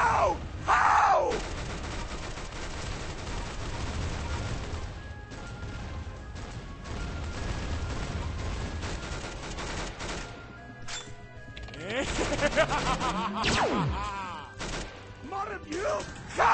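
Video game gunfire crackles in bursts through a dense, noisy mix of game effects and music, with a loud opening crash and more shots and clatter near the end.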